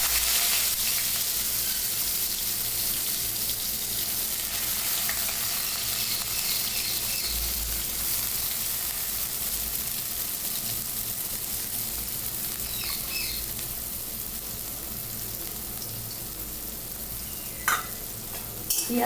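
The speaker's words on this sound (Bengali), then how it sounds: "এই মাছ ভাজার তেলেই এবারে বাকি রান্নাটা আমি করব। তেলটা গরমই আছে, তেলের মধ্যে পেঁয়াজটাকে ফোড়ন দিয়ে দেবো।" Onion sizzles in hot oil left over from frying fish, a constant crackling fry with occasional stirring scrapes, close and alone without talk.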